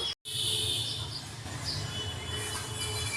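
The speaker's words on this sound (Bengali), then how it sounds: "পাখিদের কিচিরমিচির" Birds chirp in light, scattered calls over a steady low rumble of street traffic, with a brief dropout near the start.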